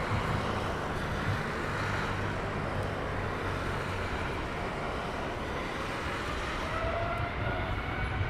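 An airliner departing Heathrow produces a broad, steady engine roar that stays loud and even throughout, heard without any talking.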